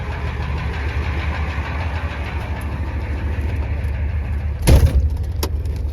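A 1989 Ford F350 with a 7.3L IDI diesel idles after a cold start, a steady low clattering rumble close by, broken near the end by a short sharp knock or clank.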